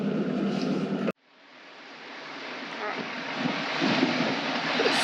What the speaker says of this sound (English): Sorry about the wind, it's so windy.